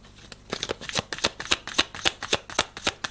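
Playing cards riffle and slap in a rapid, close shuffle for a card reading, crisp rhythmic bursts repeating a few times a second with no talk over them.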